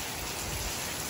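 Steady rain falls outside a house in rural Thailand, a continuous broadband hiss that stays even and fairly loud throughout, with no voices.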